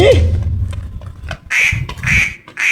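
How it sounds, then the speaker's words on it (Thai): Loud, raspy duck quacks in short repeated bursts, close by, with rustling and movement between calls. "เป็ดตามมาเร็ววิ่งหนี"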